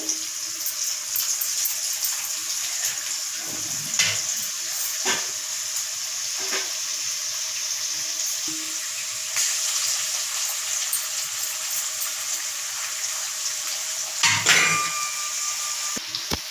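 Eggs fry in hot oil with onions, green chillies, salt and turmeric, giving a steady sizzling hiss throughout with a few sharp clinks and knocks of a utensil against the pan.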